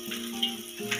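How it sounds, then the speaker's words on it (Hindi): Chopped onions hit a hot pan for tadka-style Maggi noodles, a soft bubbling sizzle that swells in two brief bursts, fairly quiet and close, with no voices. "इसमें हमारा ये प्याज कटा हुआ डालेंगे हम"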